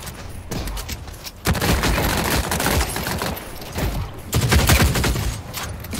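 Bulldog gun firing in The Cycle: Frontier, a rapid series of loud, close shots in bursts with brief pauses, dense and forceful from start to finish.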